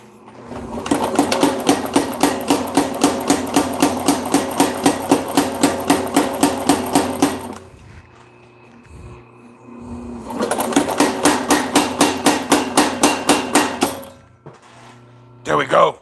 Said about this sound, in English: I do need to switch to the power hammer because I got to draw this into a hand shape real quick